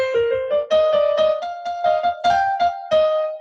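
A song's signature melody is played as a short series of sustained, rising melodic notes in a steady phrase, clear and close with no talk over it.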